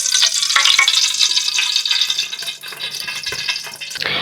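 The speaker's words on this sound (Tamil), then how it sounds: "நம்ம ஃபஸ்ட்டு எண்ணெய் ஊற்றிக்கலாம்." Oil poured into a heated cooking pot for chicken biryani, giving a loud, steady bright hiss and sizzle with small crackles throughout, fading slightly toward the end; no talking.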